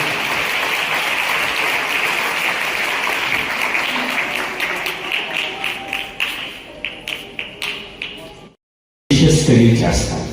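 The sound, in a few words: applause for the minister at a Christmas event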